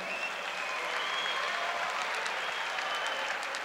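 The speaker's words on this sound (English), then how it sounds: "everyone please give up a round of applause for a great fighter" Crowd applause at an MMA fight event, a steady, dense roar of many hands clapping at an even level throughout, with no talking on top.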